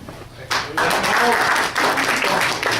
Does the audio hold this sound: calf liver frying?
no